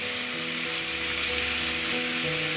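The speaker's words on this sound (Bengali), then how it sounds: "এবার দেব এর মধ্যে আদা যে গ্রেট করে রেখেছিলাম, সেই গ্রেটেড আদাটা।" Grated ginger dropped into hot oil in a frying pan, producing a loud, continuous close sizzle and hiss with a faint low hum beneath it.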